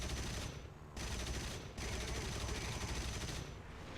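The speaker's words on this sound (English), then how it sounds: "Nail some shots on him." Aircraft machine guns firing in the War Thunder combat flight game: dense, loud streams of rapid shots broken by two short pauses, then firing again.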